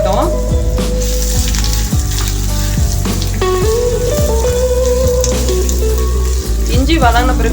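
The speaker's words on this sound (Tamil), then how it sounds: "இஞ்சி சேர்த்து நல்லா வதக்கி விடுங்க, வதங்கட்டும்." Ginger sautéing in a pan for an Indian ginger chutney, giving a steady, fairly loud sizzle throughout with stirring noises, mixed with prominent background music.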